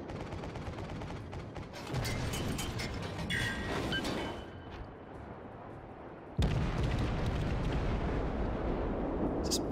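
Naval gunfire in the World of Warships game, aboard the cruiser Omaha in a firefight with a battleship: dense, rolling volleys of booming shots and explosions, loud and continuous with sharp onsets.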